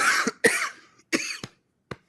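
Several sharp coughs in quick succession, close and fairly loud, with brief silent gaps and a final short cough after a pause.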